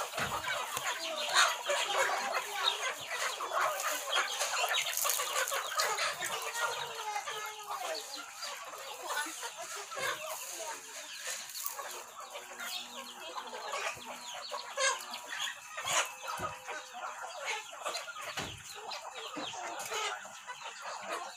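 Chickens and small chicks in a rural province farmyard, continuous clucking and peeping close by with occasional louder squawks and distant crowing, mixed with faint voices.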